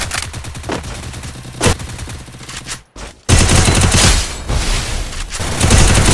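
Rapid bursts of UMP submachine gun fire in the Free Fire video game, loud dense automatic volleys broken by a brief silence, then a sustained heavy burst.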